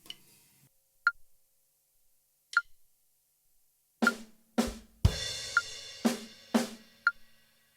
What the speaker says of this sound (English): we've got 2 hits on a snare followed by a crash